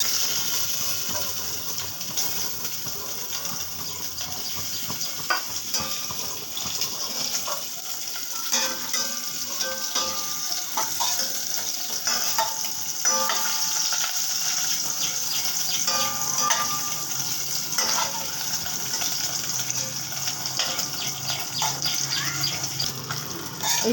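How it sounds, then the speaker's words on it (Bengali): Egg frying in oil in a pan for an egg curry, a steady sizzle and crackle running the whole time with scattered spatters and light utensil clinks, loud and close, with no talking. "এবার ডিমটাকে ভাজবো।"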